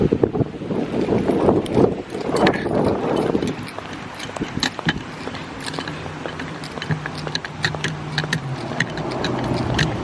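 Outdoor wind buffets the microphone in gusty low rumbles, heaviest early on and then settling into a steadier roar with faint scattered clicks and handling noises.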